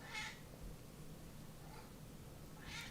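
A pet cat gives two soft meows indoors, one at the start and one near the end, faint and distant over a low, steady room hum.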